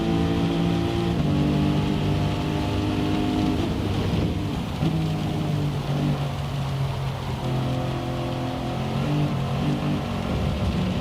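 Rain during a race at Spa-Francorchamps in Gran Turismo 7, a steady hiss of rainfall under a droning, sustained car engine, constant and moderately quiet throughout.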